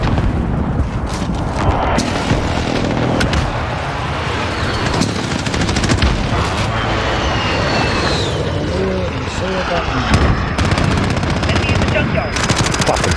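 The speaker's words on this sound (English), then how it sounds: "Friendly position airstrike inbound" An airstrike in Call of Duty 2021: rapid machine-gun bursts and heavy explosions pound continuously, loud and close, with aircraft noise and speech mixed in among the blasts.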